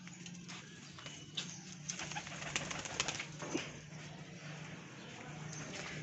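Soft pigeon coos rise from a busy background of shuffling, fluttering and faint clicks, the birds murmuring repeatedly at close range.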